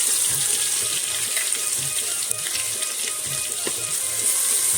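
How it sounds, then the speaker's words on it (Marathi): Ginger-garlic paste sizzles loudly and steadily in hot oil and rendered mutton fat with asafoetida and whole spices, a dense continuous frying hiss close up with faint stirring underneath. "चांगली परतडून घेऊ आपण आलं लसूण पेस्ट"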